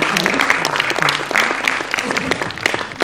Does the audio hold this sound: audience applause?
yes